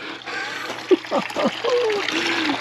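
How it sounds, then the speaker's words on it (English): Grey water gushes from a camper's waste tank, pushed out by a pump, in a steady splashing, trickling stream that runs throughout, with a voice speaking over it in places. "water should come out of my grey water tank. I can hear a pump. I can hear water."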